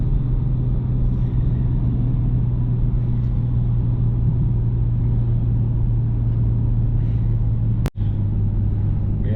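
A BMW G42 M240i engine runs at a steady pace, giving a continuous deep droning rumble close by, with one brief sharp click near the end and no talking.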